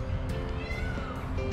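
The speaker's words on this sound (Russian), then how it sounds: "Слышите, как кричат павлины?" Peacocks in a Dubai park give loud, drawn-out cat-like meowing calls in repeated bursts over steady outdoor background noise.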